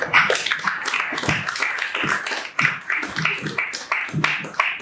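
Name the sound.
audience applauding at album launch ceremony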